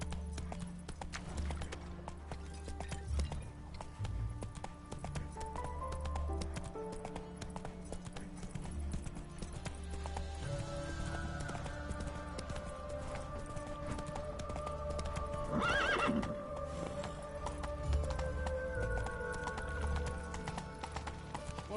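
A horse named Roach trotting with a steady clip-clop of hooves under a background of music, with a drawn-out neigh rising near the middle of the passage.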